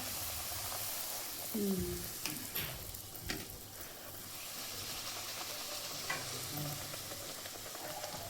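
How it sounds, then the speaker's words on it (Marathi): Puris deep-frying in hot oil for a spicy matar paneer meal fill the space with a steady, continuous sizzle, a few brief clinks and stirring noises rising above it. "अशा पुऱ्या चाललेल्या आहेत आपल्या मस्तपैकी तळायच्या"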